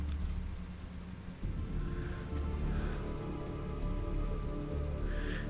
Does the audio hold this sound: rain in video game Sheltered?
yes